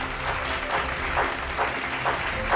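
Audience applause welcoming achievers at a national achievement day winners' celebration, a steady dense wash of clapping held at an even level throughout.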